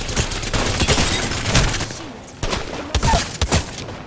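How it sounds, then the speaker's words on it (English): Rapid bursts of video game gunfire crackle in loud clustered volleys, easing into a brief lull before more sharp shots ring out. "They're shooting at me."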